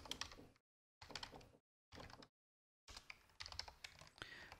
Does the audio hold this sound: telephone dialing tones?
no